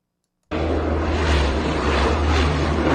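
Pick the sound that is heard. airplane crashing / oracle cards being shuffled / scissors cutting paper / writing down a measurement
airplane crashing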